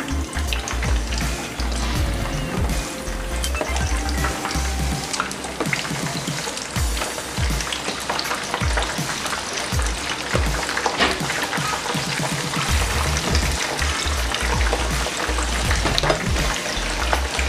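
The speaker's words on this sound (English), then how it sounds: "I will have to go with the turkey right now and fry the turkey." Turkey pieces frying in a pan of hot oil for Nigerian fried rice, a loud, dense crackle of popping and spattering that runs steadily throughout with no voices.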